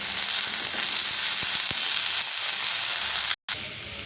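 Bitter gourd, potato and ginger paste frying in a pan as drumsticks are added: a loud, close, steady sizzle with a few clinks, cut by a sudden brief silence before the sizzling resumes.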